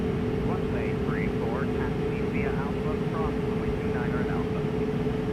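A220 airliner jet engines running in a steady, loud, continuous drone with a constant tonal whine, heard from the cockpit while a person talks.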